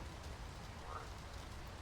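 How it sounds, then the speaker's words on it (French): Steady, soft rain falling in the video game Until Then, a continuous even patter with no speech over it. "Ah, il pleut encore."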